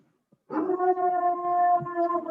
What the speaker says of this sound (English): sorry, my dog. What's he barking?